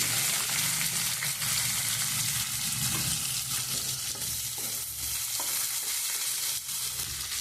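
Onion and carrot frying in a pan for ragi flour upma, a steady close sizzle with faint scraping stirs throughout, no voices.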